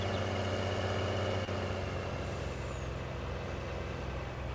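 A Cat truck drives steadily in Farming Simulator 19, its engine a continuous low rumble at constant loudness with a brief hiss partway through and no talking.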